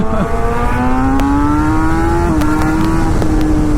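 A Suzuki GSX-R1000 motorcycle engine hums steadily while riding, its tone rising gradually through the gears, loud and close with no talk.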